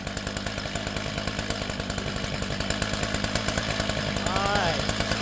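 A STIHL TS400 gas chop saw engine runs close and loud, its rapid pulsing two-stroke idle building in intensity as it revs up.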